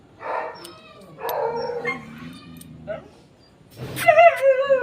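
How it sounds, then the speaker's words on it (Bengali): A neighbourhood dog howling and whining in drawn-out, wavering cries, several separate bursts followed by a louder final howl, close by. "এইটা হলো আমাদের পাড়ার কুকুর জ্যাম্বো, কাঁদছে দেখো।"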